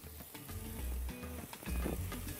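Onion, peas and carrots sauté in a pan with a soft crackling sizzle and occasional stirring scrapes, faint and close, no speech.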